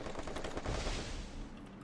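Gunfire in a shooter video game keeps up as a dense, fairly faint rattle of rapid shots, steady across the moment with no clear pauses.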